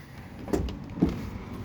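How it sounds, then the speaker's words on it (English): Door of a 2023 Gulfstream Vintage Cruiser 19CSK camper trailer being shut, two short knocks about half a second apart, close by, with a faint background hum. "Shut the door down."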